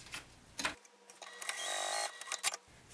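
Sewing machine stitching a fabric wallet, a short run of fast, even mechanical whirring between a few clicks and handling knocks, close and clear.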